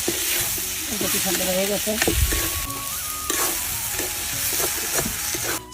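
Potatoes and prawns sizzle loudly and steadily with banana flower in a pan, with occasional stirring; someone briefly speaks over the frying.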